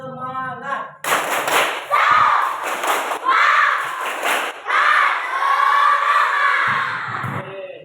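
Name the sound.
schoolchildren doing a rhythmic clap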